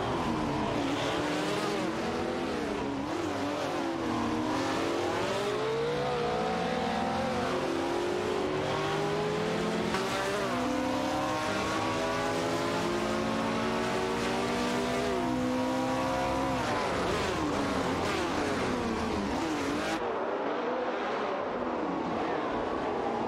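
Race cars dueling in a sim race, a Ford GT40 MkI and a Ferrari 330 P4, engines revving loud and near with rising and falling gear pitch sweeps, overlapping engine notes and tire noise throughout.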